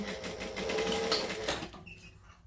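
A sewing machine stitches across the card slots of a clutch bag, one steady, fairly loud run of rapid mechanical stitching for about a second and a half before it stops, with no talk.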